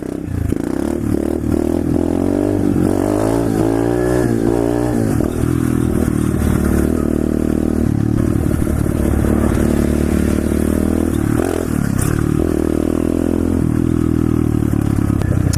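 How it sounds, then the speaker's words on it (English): A pit bike engine drones and revs loudly and continuously during a wheelie, close up, with wind noise and rattling over a steady motor roar. "Time to hit a wheelie though."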